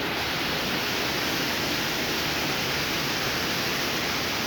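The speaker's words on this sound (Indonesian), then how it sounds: "berasal dari suara gemuruh air yang jatuh dan menghantam bebatuan di bawahnya" Curug Citambur, a roughly 130-metre, three-tiered waterfall in Cianjur, roars steadily as its water crashes onto rocks below, a dense, unbroken wash of broadband noise close by with no voices.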